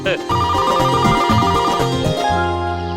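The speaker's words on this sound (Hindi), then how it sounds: "अरे मेरे सुपरस्टार का फोन आ गया" A phone ringtone plays a loud repeating melodic tune at close range, with a voice talking over it.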